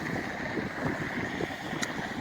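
Steady 15 to 20 mph wind blowing around a 5-blade wind turbine outdoors, a constant broadband rush with a faint steady hum and one brief high tick near the end.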